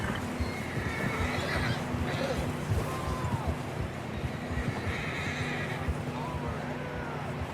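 Horses whinny in a Red Dead Redemption 2 scene, two drawn-out neighs over steady hoof clopping and outdoor ambience, with faint voices mixed in.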